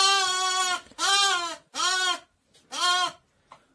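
A newborn lamb, just delivered inside a dim sheep barn, bleats four times in loud, wavering cries, the last one longest, with short silent gaps between them and a faint fifth bleat at the end.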